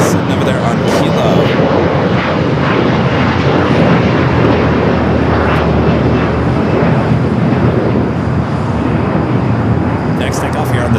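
An Air Canada Boeing 737 MAX 8 taking off from LAX's south side, a loud, steady jet engine roar that fills the whole stretch with little change, with a voice talking over it.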